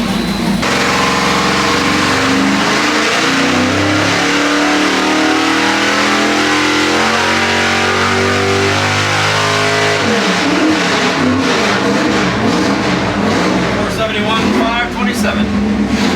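A Chevy 406 small-block V8 built for pump gas roars through a loud, sustained full-throttle pull on an engine dyno. The engine climbs steadily in pitch, then drops off sharply partway through and keeps running rough and loud.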